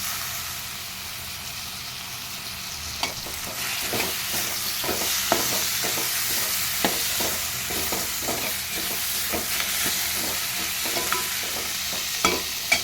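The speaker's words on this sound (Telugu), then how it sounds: "ఇది ఇలా ఫ్రై అవుతూ ఉంది. ఇప్పుడు టమాటా వేసుకుంటాను." Tomatoes frying in a pan for palak paneer curry, a steady close sizzle with repeated scraping stirs at a regular rhythm over about thirteen seconds.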